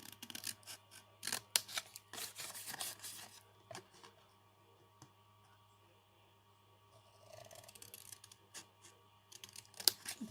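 Scissors cut through a Kit Kat cardboard box to the left of the score line, giving scattered crisp snips and rubbing scrapes in short bursts with quiet gaps, close and moderately faint.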